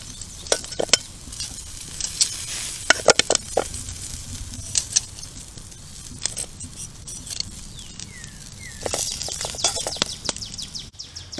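Beef short ribs go into a pot over a campfire outdoors, giving a light sizzle with sharp clanks and scrapes of metal and meat, close and intermittent, with faint birdsong in the background and no talking.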